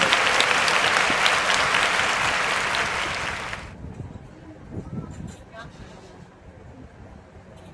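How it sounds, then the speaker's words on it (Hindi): Loud applause from an audience at a nursing students' toppers award ceremony, a dense burst of clapping for about four seconds before cutting off, followed by quieter room noise and faint voices. "जोरदार तालियों से स्वागत कीजिए"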